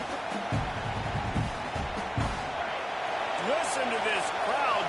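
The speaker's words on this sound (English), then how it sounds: "Listen to this crowd just shaking the girders of this place, trying to help their defense" Roaring stadium crowd in a college football video game, a sustained loud cheering wash with thuds and bounces early and a commentator's voice speaking over it.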